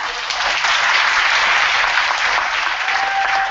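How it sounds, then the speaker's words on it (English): A lecture audience claps for the visiting professors in a full, steady burst of applause that holds at an even level from start to finish, close and fairly loud, with no speech over it. "So one more round of applause,"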